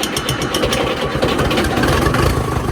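A Land Rover TD5 diesel engine in a workshop fires up after glow-plug heating and settles into a steady, rough idle, with a clattering rumble close by and no talking over it.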